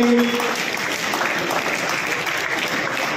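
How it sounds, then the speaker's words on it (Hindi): A school audience claps loudly for students at a CBSE results ceremony, with dense, steady applause filling the whole stretch. "जोरदार तालियां उन बच्चों के लिए।"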